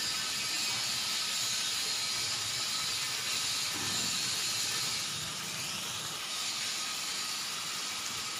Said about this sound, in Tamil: கொஞ்சம் உப்பு லேசாக இது போட்டுக்கிட்டு நம்ம வதக்கிக்கலாம். சீக்கிரமாக வதங்கிடும்.